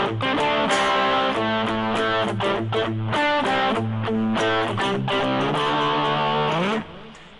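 Electric guitar played through the Tascam GB-10's dirty distorted channel, sustained chords and riffs with thick harmonic grit, loud and continuous for about seven seconds before cutting off abruptly.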